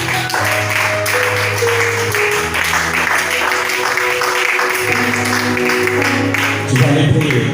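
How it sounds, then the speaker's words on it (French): Church congregation cheering and applauding for the Lord, sustained loud clapping and crowd noise with a voice calling out over it throughout. "Acclamez le Seigneur très fort."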